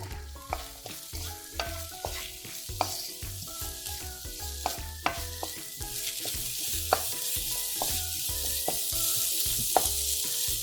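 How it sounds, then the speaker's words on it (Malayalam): Onion is sautéed in oil blended with spice paste for a prawn dish, with repeated sharp spoon knocks and scrapes against the pan over a low sizzle that grows brighter toward the end. "നമുക്ക് അതിലിട്ട് വഴറ്റിയെടുക്കാം. ആദ്യം സവോള"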